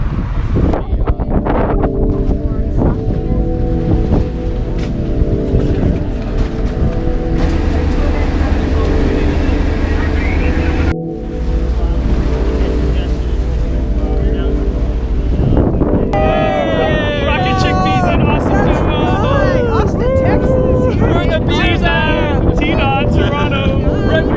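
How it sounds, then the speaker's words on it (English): A ferry crossing on open water, with strong wind buffeting the microphone and a steady low engine rumble throughout, a short quieter dip midway, and people talking loudly near the end. "we are heading over to take a ferry to the other side"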